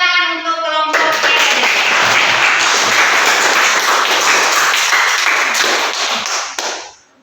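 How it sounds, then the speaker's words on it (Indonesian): A classroom group breaks into loud, dense clapping after a presentation, a steady close burst of many hands lasting several seconds before cutting off. "Beri tepuk tangan untuk kelompok C."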